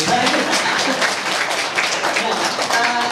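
Applause from a school audience, a dense steady wash of many hands clapping at once, loud and continuous throughout with some voices mixed in.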